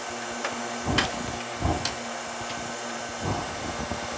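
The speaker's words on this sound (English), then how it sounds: "Machine's sequentially starting up" Mailstar 500 mail matching machine starting up, a continuous mechanical hum with scattered clunks and clicks as parts engage in sequence.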